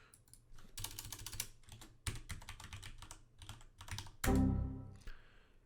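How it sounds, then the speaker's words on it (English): Rapid typing on a computer keyboard clatters in close bursts of keystrokes, ending with a heavier thump and a final tap. "I'm typing it."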